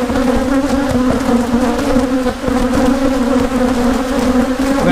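Honeybees from a hive being split into a new box hum in a dense, steady, close buzz that fills the whole stretch without a break.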